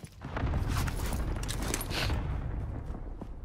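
Gunfire in a Warzone match, a dense burst of crackling shots and booms that holds loud for a few seconds, with no talk.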